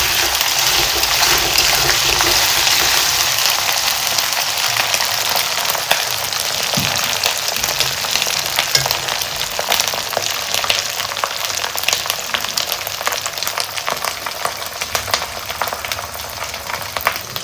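Ginger paste frying with fried onion and garlic for a Bengali chicken curry, a steady dense sizzle with wet crackle running throughout, loud and close with no voices.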